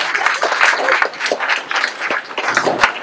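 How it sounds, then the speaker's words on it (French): An audience at La Malestroyenne 2023 in Malestroit, an event held against cancer, applauds Paul with steady, dense clapping that holds through the whole stretch without letting up. "je crois qu'on peut l'applaudir."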